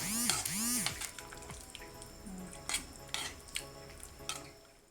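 Ketchup being stirred into a simmering mixture in a pot, quiet scrapes and light clinks of a spoon against the pot in short bursts, with a faint low sizzle underneath.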